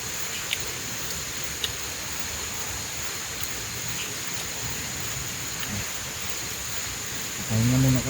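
Rain in a video game falls as a soft, constant hiss, with a faint high tone running through it, a few light ticks, and a brief voice near the end.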